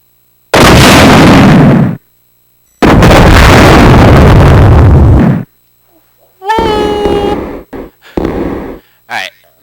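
Claire's weapon in the video game Resident Evil 2 lets out two long, very loud, roaring bursts of fire, then falls silent before a person speaks in short phrases.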